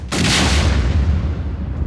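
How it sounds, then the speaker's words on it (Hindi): A single loud blast from a rocket-propelled grenade fired through a third-floor window of the Punjab police intelligence headquarters, a sharp close boom that decays into a rumbling wash, with no talking. "खिड़की तोड़ती हुई आरपीजी यानी रॉकेट प्रोपेल्ड ग्रेनेड अंदर दाखिल होती है और तेज धमाका होता है।"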